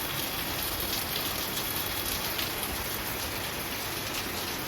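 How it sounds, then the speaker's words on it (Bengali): Heavy rain pours down steadily outside a house, a dense, constant hiss of drops on surfaces that stays loud and even throughout with no voices. "দেখুন বাড়ি থেকে বেরোনোর সময় কি অঝরে মুষলধার বৃষ্টি পড়ছে।"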